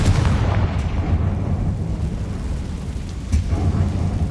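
A Confringo fire spell explodes in Hogwarts Legacy inside a closed mine, a heavy rumbling blast that rolls on as a loud, low roar with a couple of sharp cracks inside it.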